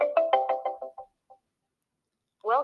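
A phone call rings out over speakerphone while dialing into Google Meet, a rapid trilling burst of electronic rings that fades, then a new tone starts.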